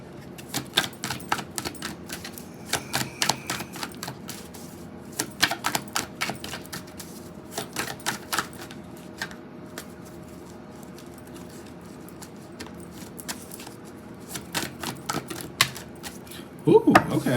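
Tarot cards shuffled by hand, with repeated crisp riffling bursts and flicks close by, broken by short pauses and a softer rustle.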